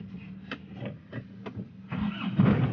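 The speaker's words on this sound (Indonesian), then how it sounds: "Oke, suara dieselnya mantap, nyaring. Suara diesel khas Panther ya" Isuzu Panther LS turbo diesel, a 2004 manual, cranked several times with short clicks and bursts before the engine catches and settles into a rougher, louder diesel clatter, fairly quiet overall.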